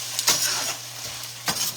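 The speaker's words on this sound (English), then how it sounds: "it's a sauce, so I really want that to kind of simmer in there." Basil-scented tomato sauce with onions and salsa simmering in a home kitchen pan, a soft, steady sizzle with a few brief stirring or scraping clatters, close and alone.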